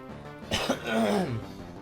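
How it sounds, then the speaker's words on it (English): A single man clears his throat in a short, rough rasp with a low guttural tail, close to the microphone and alone. "I might be clearing my throat a few more times than normal"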